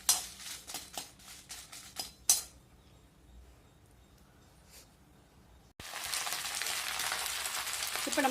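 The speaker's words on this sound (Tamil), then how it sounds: "இப்போ நம்ம மிளகாயை வறுத்து எடுத்து" Chillies are roasted in a pan for a spicy greens thokku: a few sharp utensil clinks against the pan, a quiet pause, then a loud, steady sizzle that runs to the end.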